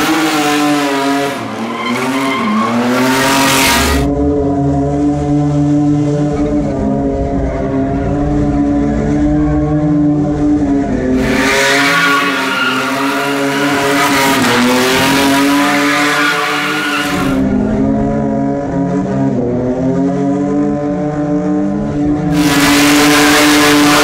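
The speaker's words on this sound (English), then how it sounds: "Let's do some tandem donuts." A 707hp Liberty Walk GTR revs hard through tandem donuts, its engine wailing and rising in repeated surges while tires squeal and skid loudly and continuously throughout.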